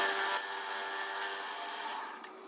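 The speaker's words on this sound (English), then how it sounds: "So I just have to mill some clearance in it so that doesn't occur." A rotary tool grinds clearance into a coil bracket on a 1971 Honda CB750 motorcycle, producing a loud, close, high-pitched whine with steady tonal ringing that fades toward the end as the cut stops.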